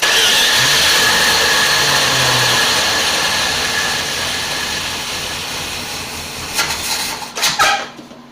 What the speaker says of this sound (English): I might have the idle too low on it, because I've never messed with it yet